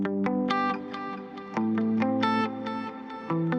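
Guitar track processed with effects but no retro color plugin, playing sustained harmonic chords and plucked notes with changing bass tones, steady and clear with no voices.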